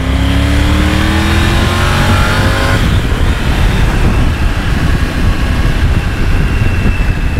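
A Triumph Tiger 900 motorcycle engine revs up close, the pitch climbing smoothly for about three seconds before dropping away into a loud, rough idle and wind-like rumble, with no voices.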